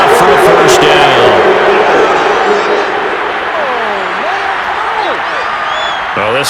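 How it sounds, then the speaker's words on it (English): A crowd in Madden NFL 22 boos a penalty call, a loud sustained roar of disapproval from a stadium audience with a brief burst of noise at the start and scattered tonal calls rising above it. "this crowd does not like that call"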